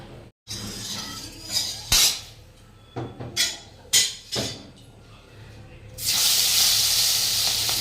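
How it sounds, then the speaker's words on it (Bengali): Fish frying in hot oil in a home kitchen, a loud steady sizzle building up near the end after scattered clinks and kitchen knocks. "এই মাছটা ভেজে দিই।"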